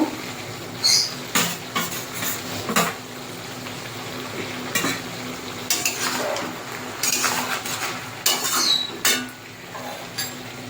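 Fried bitter gourd and eggplant tipped into a pan of ginger and radhuni paste for a festive-style shukto, with repeated scraping and clattering of a spoon against the pan over a low frying hiss, close by and with no talk.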